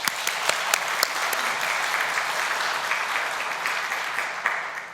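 A church congregation applauds the finance department's director, officers and members during a Sunday afternoon service, a dense, steady wash of many hands clapping at once that holds at full strength for the whole stretch.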